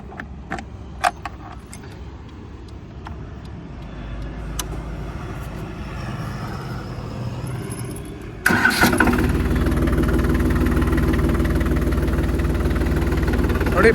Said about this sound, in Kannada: ಬನ್ನಿ ಹಾಗೆ ಈ ಟ್ರ್ಯಾಕ್ಟರ್ನ ಓಡಿಸಿ ನೋಡೋಣ ಯಾವ ಥರ ಇದೆ ಅಂತ.